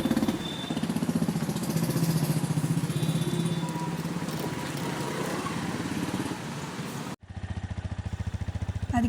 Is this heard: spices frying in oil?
no